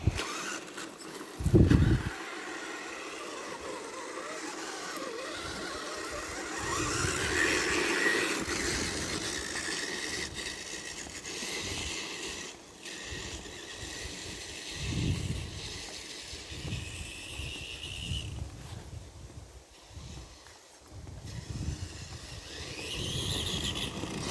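A Tamiya TXT-2 RC monster truck drives outdoors, its faint electric motor whine and hiss rising and falling in short bursts, with a brief louder knock near the start and occasional whirring surges.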